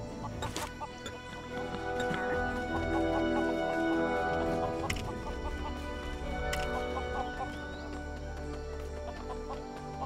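Clucking Lego Worlds chickens sound in a steady game scene, scattered calls over continuous background music and sharp effect clicks, no talk.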